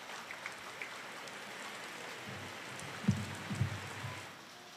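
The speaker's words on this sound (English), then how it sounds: "Well, it's been raining." Rain falls steadily at an outdoor presidential inauguration ceremony, a faint, even hiss with a few soft low thumps near the end.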